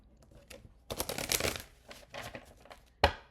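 A deck of tarot cards shuffled by hand: a few soft taps, then a burst of riffling and flicking cards, a pause, and a final sharp snap of the deck squared up.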